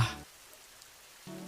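Summer rain falling in an animated cartoon, a soft steady patter of drops on surfaces, fairly quiet, with short bursts of other sound at the start and end.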